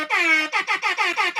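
Loud air horn sounding alone: one long sustained blast followed by five short, evenly spaced honks in quick rhythm.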